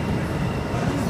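A Sydney electric train pulls away from a platform at Town Hall underground station, a steady loud rumble and rail roar filling the space with no pauses.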